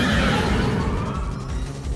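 A horse neighs for Calyrex-Ice Rider in a Pokemon battle game, a loud, wavering whinny that fills the short moment over game sounds.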